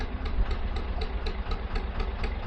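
A narrowboat's diesel engine chugs steadily under load while cruising the Oxford Canal, a continuous low throbbing rumble with a regular beat, close and alone.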